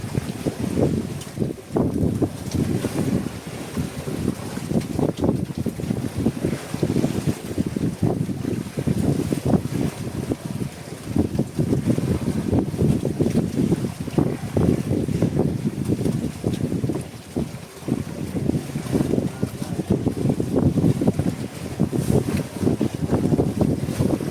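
A boat battles large waves in strong wind, with a steady, loud roar of wind buffeting the microphone and rushing water throughout, occasional brief dips in the noise and no voices.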